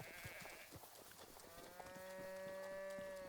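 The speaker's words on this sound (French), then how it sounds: "Oh, il y a une vachette." A cow lows in The Legend of Zelda: Breath of the Wild. A long, steady, tonal moo builds over the second half above a busy game background, with faint plucked music underneath and no voices.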